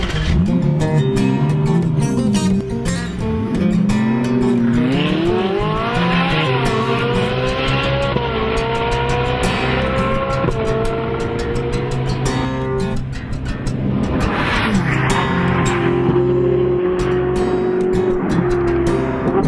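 Ferrari 458 Italia driven hard on mountain roads, the engine rising and falling through gears with repeated revving climbs, loud and close throughout with no talking.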